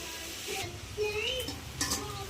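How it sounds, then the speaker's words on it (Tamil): Vallarai (brahmi) greens being sautéed in a pan: a spatula scrapes and stirs against the metal over a soft, steady sizzle, with a few brief clinks and squeaks, close and fairly quiet. "வல்லாரைக்கீரை நல்லா பொடியாக வதக்கணுமா?"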